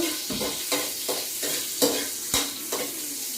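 String beans being sautéed in a pan for adobo, with repeated stirring scrapes and a steady sizzle at a brisk rhythm, close and moderately loud, with no talking.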